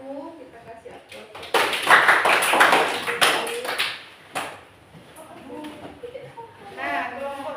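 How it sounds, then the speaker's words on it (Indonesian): A classroom group claps for the first presenting group, a dense burst of applause rising quickly, holding for a couple of seconds, then thinning into scattered claps while voices talk. "Nah, terima kasih kelompok 1 kita kasih aplaus"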